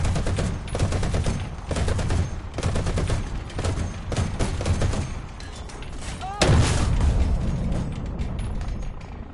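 Machine-gun fire in War Thunder rattles in rapid bursts through the whole stretch, loud and close, with a heavier blast-like swell midway and the rhythm of repeated volleys.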